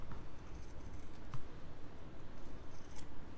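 Scissors or shears cut a circle along marked lines, giving a soft, continuous close-up snipping and scraping at low level with no talk.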